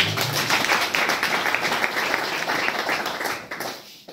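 A church congregation at a worship service claps loudly and steadily for the Lord, a thick wash of applause that fades out near the end.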